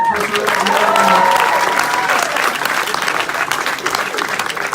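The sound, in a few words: audience applause at a comic convention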